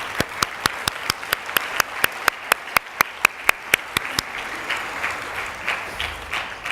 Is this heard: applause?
yes